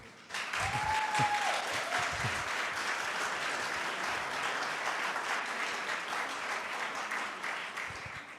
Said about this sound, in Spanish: si podés pararte, Eric, vamos a darle un aplauso